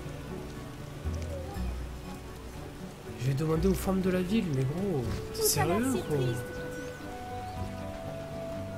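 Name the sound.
rain in the video game The Witcher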